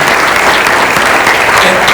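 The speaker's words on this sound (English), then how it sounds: "maybe you'll give her a round of applause for the work that she did" Loud audience applause for Karen Gale in a room at a hall of fame open discussion, a dense continuous wash of clapping from a full crowd.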